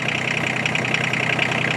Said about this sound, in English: you can hear the engine change, oil pressure